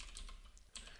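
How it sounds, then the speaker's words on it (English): Typing code on a computer keyboard gives a brief, faint run of soft key clicks, quiet and close, with no voice. "we could actually come in here and we could type"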